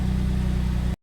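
A 2009 Land Rover LR2 with a battery warning light on, its engine running at a steady, loud idle close by for about a second before cutting off abruptly.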